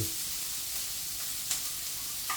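Pancit gisado ingredients sauté in olive oil tinted with paprika, a steady close sizzle with a couple of brief sharper spits, no voices.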